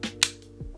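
A Sig compact pistol clicks sharply as the trigger breaks and resets during dry fire, a few short, close mechanical snaps with quiet gaps between them.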